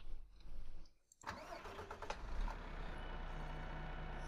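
A tractor engine in Farming Simulator 2015 starts up with a short cranking burst, catches, and settles into a steady, low rumbling idle as the machine drives along. The sound is quiet overall.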